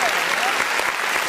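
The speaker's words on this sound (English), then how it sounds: "Indica, you actually get some applause too" Studio audience applause for a game show contestant, a dense, steady burst of clapping close up that fills the whole short stretch without letup.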